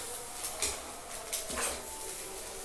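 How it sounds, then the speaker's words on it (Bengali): A ladle mixes layered chicken biryani, rice and meat gravy, in a pot, making several close metallic scrapes and clanks against the pot in an uneven rhythm, with no talking. "এবার আমি হাতা দিয়ে এগুলো সব মিক্স করে দিচ্ছি"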